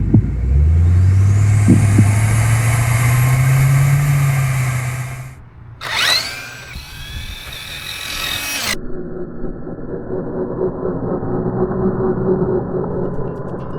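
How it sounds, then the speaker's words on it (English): Two 1:18 scale Grand Cherokee RC crawlers, a JJRC 8809 and a Pinecone SG1803, rev their electric motors at full throttle with a rising whine that drops away, followed by a brief sharp burst and then softer rolling motor noise. "we're going to punch the throttle at the same time to see which one actually wins"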